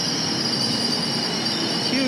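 An express commuter train to Grand Central rumbles along loudly with a high metallic wheel squeal rising near the end, the roar constant and close.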